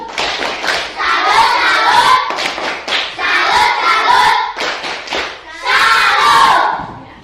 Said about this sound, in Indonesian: Mari kita tepuk tangan salut buat mereka